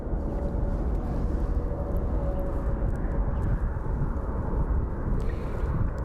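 A Boeing 737-800 airliner at Phoenix Sky Harbor airport gives a steady, loud, broadband engine roar with low rumble, mixed with wind buffeting at the microphone.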